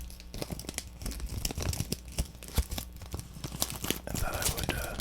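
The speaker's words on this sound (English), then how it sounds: "thought I would make some crinkly sounds" Crinkling of a candy wrapper, a pack of Rips candy, handled close up with irregular crackling bursts and rustles over a few seconds, fairly quiet and intimate.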